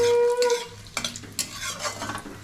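Cumin seeds, bay leaf and dry red chilli sizzle in hot oil for a Bengali-style crab curry, a close, steady frying hiss broken by scraping stirs and a few light clinks, with no talking.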